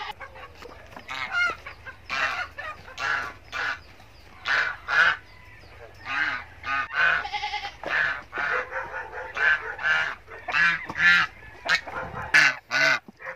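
Ducks and chickens kept as pets near their drinker give a continuous run of loud quacks and clucks, with short bursts in irregular rhythm that fill the whole stretch and sound close.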